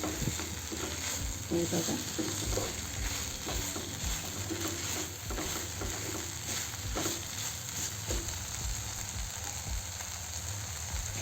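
Soybean bhurji frying in a pan gives a steady, fairly quiet sizzle, with occasional stirring scrapes underneath and a brief spoken remark.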